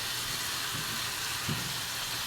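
Chicken sizzling as it is sautéed (ginisa) in a pan for sinigang, a steady hiss holding through the short stretch with no talking.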